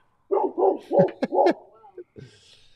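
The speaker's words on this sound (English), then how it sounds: "Dogs going nuts." Several dogs bark in rapid bursts in a backyard, four or five loud close barks in quick succession, trailing off into a couple of softer yips.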